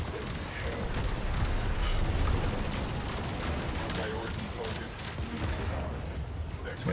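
Cannon fire in the video game Warframe, dense rapid booms and blasts layered into a continuous loud barrage with players talking over it.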